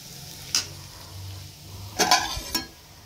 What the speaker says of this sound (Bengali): এখানে ওই আলু, ফুলকপি, বিনস, গাজর এগুলো সব ভেজে নিচ্ছি